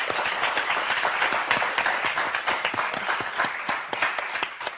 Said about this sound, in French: bravo Nathalie, Laurence, on vous applaudit très fort